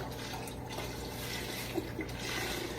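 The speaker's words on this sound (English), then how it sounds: "And then we're going to do some water too." Water being poured into a pot of black beans that already holds chicken stock, a faint, steady rushing stream heard alone throughout.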